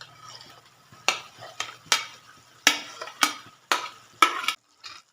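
Shallow-fried fish being added and stirred into a tomato gravy in a pan makes a series of about eight sharp utensil scrapes and clatters, irregularly spaced over a faint simmer, fairly close and with no talking.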